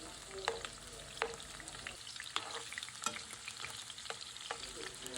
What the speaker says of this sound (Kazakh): пиязды салып, жақсылап қуырамыз қызарғанша.